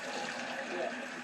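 Running tap water pouring in a steady faint hiss and splash, continuous and quiet, with a voice speaking softly over it.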